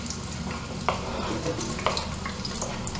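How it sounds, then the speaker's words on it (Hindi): Onion frying in hot oil in a cooking pot: a steady close sizzle with a few sharp stirring clicks, no talking. "गर्म होगा तो मैं इसमें प्याज डाल दूंगी"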